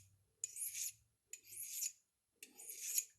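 A D bit's cutting edge is touched up by hand, with three slow, even rasping strokes, each a soft gritty scrape separated by short silences.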